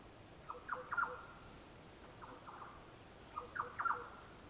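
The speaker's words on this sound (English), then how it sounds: "I don't know what that bird is, but there's two of them." Two unidentified birds near Bamaga Road on Cape York give short, faint paired calls, each a quick burst of two or three notes, repeated twice over a quiet outdoor hush.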